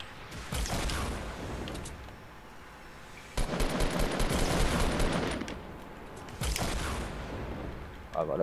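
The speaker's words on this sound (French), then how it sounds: "Il me tire dessus!" Fortnite gunfire rattles in rapid automatic bursts, several long volleys separated by brief lulls, fairly loud and close with game ambience between them.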